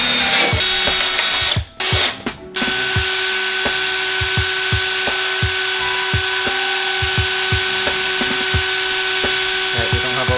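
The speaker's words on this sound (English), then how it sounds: "What are you doing with a drill, Scott?" A loud, continuous power drill whine cutting carbon fiber wings for a Mini Cooper JCW, with repeated rhythmic clicks, briefly cutting out twice near the start before running steadily.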